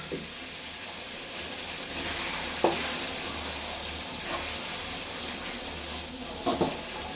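Mixed leafy greens added to a pan of roasted onions, frying with a steady sizzle and hiss under stirring, with a few brief louder scrapes or clatters from the pan.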